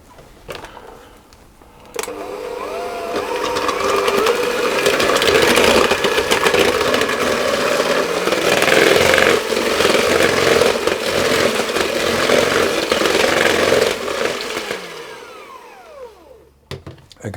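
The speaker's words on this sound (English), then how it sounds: "I'm going to whisk those together" Eggs and vanilla extract whisked together for cake batter with an electric mixer, a steady loud whirring drone running about twelve seconds, starting abruptly and tapering off at the end, with no talking.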